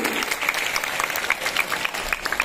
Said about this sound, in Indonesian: Sekali lagi tepuk tangan untuk calon ketua OSIS